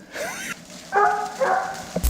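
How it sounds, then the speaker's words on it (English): Hunting dogs chasing a bear give a few yelping, whining barks at a distance, broken into short bursts over a noisy outdoor background. "the sound of the dogs grew louder, indicating the bear was being pushed to move"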